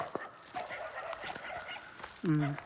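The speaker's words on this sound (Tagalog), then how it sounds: "Ingay ng mga aso, siguro nakita nila ako." A dog barks once near the end against a murmur of faint background voices and shuffling noise, near a large unfinished mosque.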